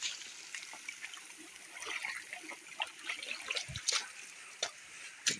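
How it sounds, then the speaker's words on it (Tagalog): Water flowing outdoors on a farm with durian and lansones trees, a soft continuous trickle and splash close by with scattered small drips and rustles, quiet and with no talking. "Tubig."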